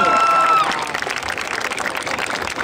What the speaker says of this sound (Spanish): Fuertes aplausos para Javier Mazu.